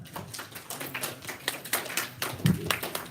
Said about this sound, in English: Please give a round of applause for Mr. Dan Kuhar.